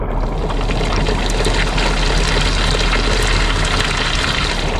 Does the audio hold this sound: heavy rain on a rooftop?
yes